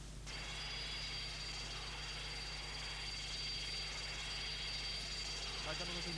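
Inside a company helicopter in flight, a steady, loud engine and rotor drone fills the whole stretch without letting up.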